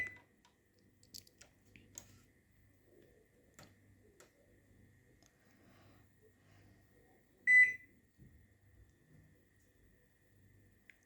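A Cecotec 3D Wave Proclean 5120 mirror microwave oven gives a single sharp beep after a button press, with faint clicks and a low running hum around it in a quiet room.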